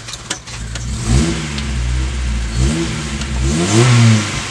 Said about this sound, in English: Remember, it's not tuned for VTEC, so it's not going rev high.